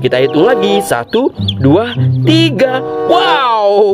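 A rainbow-coloured chicken clucks in short, close, loud bursts, its calls interleaved with someone speaking over them.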